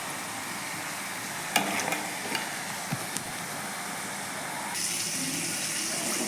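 Brinjal and onion sautéing in a pan for an egg tamarind curry, a continuous hiss of frying with a few sharp spatula knocks and stirs, close by and without speech.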